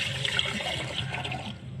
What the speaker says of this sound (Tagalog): Butangan mo ng tubig, guys.